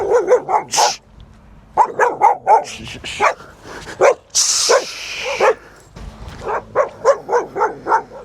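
A dog barks repeatedly on a hillside walk along Mam Tor and the Great Ridge, loud close bursts of barking in quick clusters with short pauses and occasional yips.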